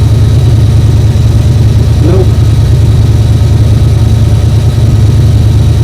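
A 7.3 IDI diesel engine of unknown history runs at a steady idle, with a constant low rumble filling the clip while a person briefly speaks over it.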